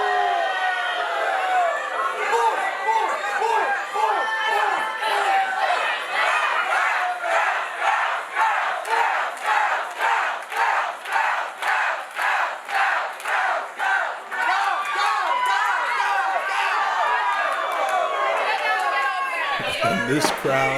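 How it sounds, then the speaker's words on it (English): Pro wrestling crowd in St. Charles, a loud dense roar of cheering and chatter that swells into a long run of rhythmic unison chanting before fading back to general noise, near and filling the venue. "this crowd fully in favor of the Collab here this afternoon in St. Charles"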